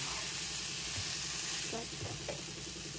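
Broad beans (chikkudu) sizzling in a pan with turmeric, a continuous faint hiss of frying with a few soft stirring scrapes near the end.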